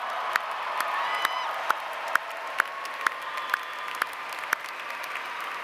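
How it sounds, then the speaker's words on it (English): Graduation commencement crowd applauding, a sustained round of clapping with a few sharper claps standing out and faint cheering mixed in. "Let's give them a big applause."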